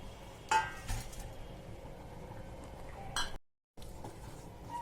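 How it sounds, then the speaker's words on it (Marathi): A spoon clinks and scrapes against a bowl while a thick mango mixture is stirred, giving a few distinct metallic taps between soft, quiet mixing sounds. "आता छान मिक्स करू आपण"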